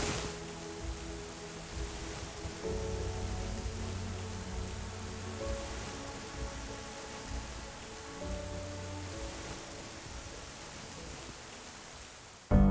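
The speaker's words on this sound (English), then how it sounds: "It's starting to rain harder and harder." Steady rain patters down through a spruce forest, a dense even hiss with drops striking nearby surfaces, holding constant throughout with no voices.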